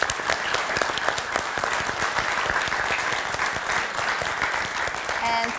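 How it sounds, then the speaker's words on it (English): An audience at a company contest event claps in a dense, steady burst of applause that holds at an even level for several seconds. "Big applause for both of them."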